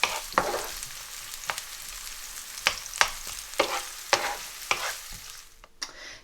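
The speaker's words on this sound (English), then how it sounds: "And just give them a stir. And I'll just wait for them to soften" Vegetables softening in a frying pan, stirred with sharp scraping strokes roughly every half second over a continuous low sizzle, close and alone.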